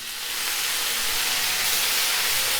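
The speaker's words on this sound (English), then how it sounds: "This will kind of steam the vegetables." A tablespoon of water hitting a hot pan of half-cooked vegetables for yaki udon, bursting into a loud, steady steaming hiss that swells slightly and holds, close up with no voices.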